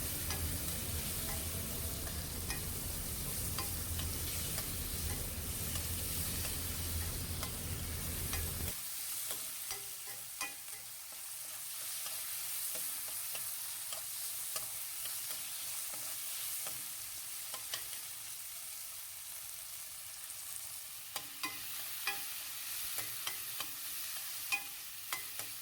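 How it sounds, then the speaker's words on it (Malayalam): A tomato and onion mixture shallow-fries in a pan with a soft, continuous sizzle. The sound is louder and fuller for the first few seconds, then quieter, with light scraping stirs and occasional small pops. "നല്ലപോലെ ഒന്ന് മിക്സ് ചെയ്ത് വഴറ്റുക. ഡീപ്പ് ഫ്രൈ ആവണമെന്നില്ല, ജസ്റ്റ് ഒരു ഷാലോ ഫ്രൈ മതി."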